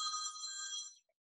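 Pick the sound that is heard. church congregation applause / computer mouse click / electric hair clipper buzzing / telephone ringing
telephone ringing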